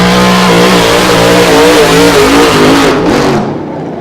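Miss Merion Bluegrass hydroplane race boat at the 2013 Lake Pateros races, its engine letting out a loud, steady, close roar that holds for several seconds before easing off slightly at the end.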